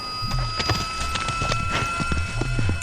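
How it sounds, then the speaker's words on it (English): Horse hooves clip-clop in a quick, irregular run as a mounted man with a sword charges in a scene about ancient combat, with steady tones sounding beneath the hoofbeats. "a man on a horse is coming at you with a sword"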